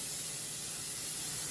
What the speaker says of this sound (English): There we go. Lots of cooking spray.